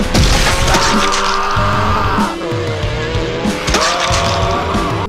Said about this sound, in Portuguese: Nesse momento surgiram diversos barulhos de motores